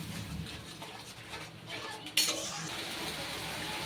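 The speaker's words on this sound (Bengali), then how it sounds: "এবার এই সব দিয়ে মশলাটা খুব ভালো করে কষিয়ে নেব।" Spice masala with salt being stirred and fried in a pan for a boal fish bone chochori, soft scraping and faint sizzle with a sharp clink of a utensil against the pan partway through.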